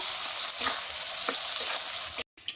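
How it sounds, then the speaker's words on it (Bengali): Chopped onion frying in oil in a kadai with bay leaf, a loud close steady sizzle with a few stirring scrapes, cut off by a brief moment of silence near the end. "পেঁয়াজটা লাল লাল করে ভেজে নেব"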